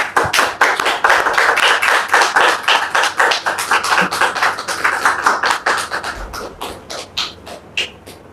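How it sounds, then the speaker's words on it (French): A studio audience applauds a guest on a French-language cooking and talk show, dense steady clapping that carries strongly for several seconds and then thins into scattered claps near the end. "sous vos applaudissements, s'il vous plaît"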